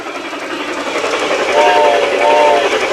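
An 1875 wood-burning steam locomotive on the Durango & Silverton in Colorado gives two short whistle blasts over a steady rumble of the moving train, with voices in the background.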